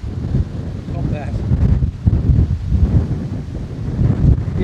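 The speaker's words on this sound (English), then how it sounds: "that wind's just knocking it hard there" Gusty wind on the Caboolture Golf Club course roars and buffets hard against the microphone in a loud, unbroken low rumble that surges and eases.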